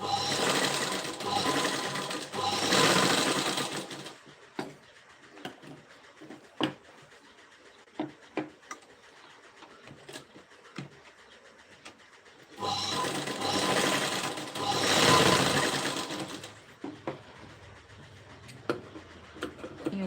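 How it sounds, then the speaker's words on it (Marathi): A sewing machine stitches the neckline of a boat neck blouse in two loud, fast-whirring bursts, separated by quiet stretches of small clicks and fabric handling, with no talk. "इथंही एक सरळ टीप बरोबर आपल्या गळ्याला मारून घ्यायची आहे"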